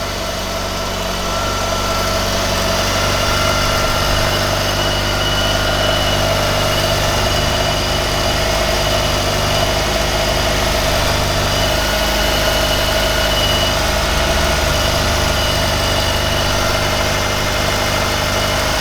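A Mitsubishi Lancer Evolution IV engine running rich idles steadily for a long stretch, a loud, constant low rumble with faint vibration and no talking.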